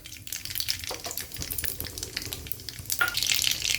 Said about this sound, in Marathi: जिरे मोहरी घेतली होती का ती आपण तेलामध्ये टाकू